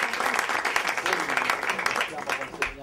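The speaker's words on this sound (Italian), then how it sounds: "Un applauso a questi ragazzi." An audience at a cultural event applauds a group of young people who make personalized clothing from African fabrics; dense, fairly loud clapping runs for about three seconds with voices faintly underneath.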